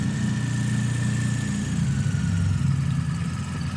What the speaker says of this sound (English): While the engine is idling, we can check the perimeter for leakages.